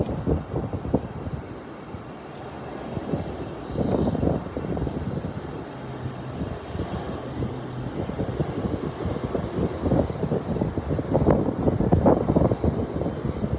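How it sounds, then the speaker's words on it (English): Outdoor ambience at Sydney Kingsford Smith International Airport beside Botany Bay, with a steady aircraft engine rumble and wind buffeting the microphone throughout, swelling louder near the end. "Welcome to Sydney Kingsford Smith International Airport, right on the doorstep of Botany Bay."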